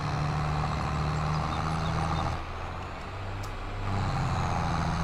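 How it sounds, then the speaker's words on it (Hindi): A New Holland 3630 tractor engine labours under load in Farming Simulator 22, a loud, steady low drone that sags briefly as the revs drop, then picks back up. "ये भाई आरपीएम टूट रहा है ट्रैक्टर का।"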